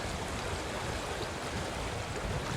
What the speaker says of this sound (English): So peaceful listening to the water.